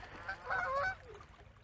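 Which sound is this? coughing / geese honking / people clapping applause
geese honking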